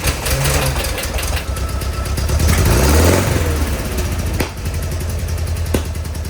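An engine fitted with new spark plugs cranks, catches and runs at a rough, uneven idle, with a swell in revs midway and a couple of sharp pops before the rattling chug settles.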